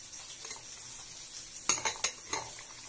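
A spoon lightly stirs a fresh yogurt mixture in a bowl in a home kitchen, with soft scraping and then a few quick, bright clinks against the bowl, close and fairly quiet.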